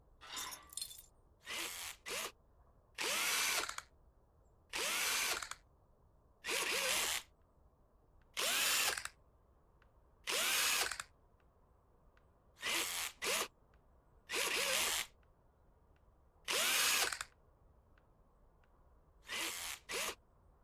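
A power tool whirs in repeated short bursts, about a dozen evenly spaced runs, as it spins screws off an engine manifold in the video game Car Dealer Simulator; loud and close, with no talking.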